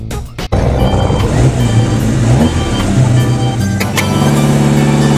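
A big blue truck hauling a Tyrannosaurus Rex in a dinosaur convoy drives past with a loud, steady engine roar that swells slightly as it accelerates, after a brief sharp knock at the start.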